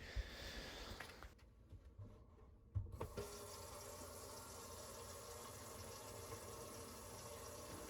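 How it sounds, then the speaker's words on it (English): Water runs steadily from a kitchen tap down a sink drain line being checked after unclogging, a continuous wash with a brief lull and a few knocks early on. "I'm going to run a little bit more water now, make sure that it's clear."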